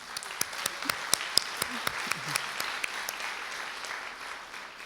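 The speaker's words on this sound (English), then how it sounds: "Can we give them an applause, please?" Steady audience applause at a conference welcome speech thanks UN Women, heard a little distant, with a few sharp individual claps standing out in a rhythmic row over the crowd.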